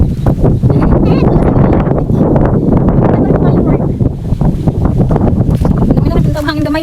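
Strong wind roars and buffets loudly and continuously, with gusty turbulence battering the microphone.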